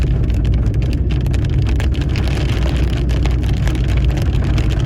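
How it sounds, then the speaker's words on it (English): Hail comes down hard in a severe storm in Wells, British Columbia, a dense, loud, steady patter and rumble heard from inside a vehicle, with no talking. "Definitely hailing."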